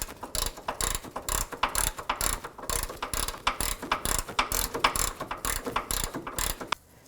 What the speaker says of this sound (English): Now the socket to fit on this castle nut is a 3/4 inch socket, and I'm just going to snug this up.